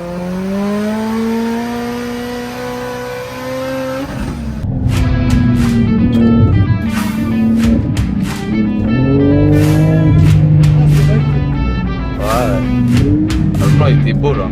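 A Ferrari 2RS doing donuts at a Ferrari charity event: the engine holds a rising, wavering rev, then swells louder with tire noise and sliding whines, heard close from inside while people talk.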